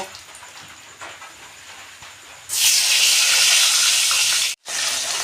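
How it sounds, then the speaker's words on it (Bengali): Fish frying red in a pan for a fish and potato dish: a soft sizzle at first, then a loud bright hiss bursts up around halfway, cuts out briefly, and resumes, close and steady with no talk. "সব মাছগুলোকে আমি লাল করে ভেজে নেব, দিয়ে ভেজে তুলে নেব।"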